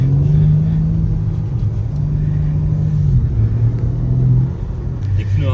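A BMW M3 G80 engine idles and revs steadily in a snowy setting while its tyres are warmed, a loud close rumble swelling and easing throughout, with a faint voice over it.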